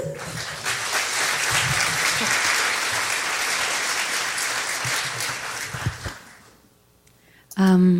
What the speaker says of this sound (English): Let's give another round of applause to our speaker today